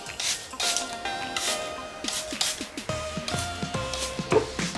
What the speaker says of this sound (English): Then spray some water.